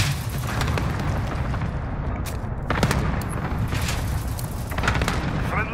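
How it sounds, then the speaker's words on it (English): Cluster strike explosions in Modern Warfare 2019, heard as a continuous barrage of dense, rumbling booms with sharper blasts cutting through over several seconds, loud and sustained. "Allied cluster strike inbound"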